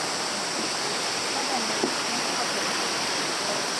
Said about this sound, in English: Oh, I love a creek. Creeks are wonderful.